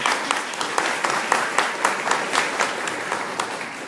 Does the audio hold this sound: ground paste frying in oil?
no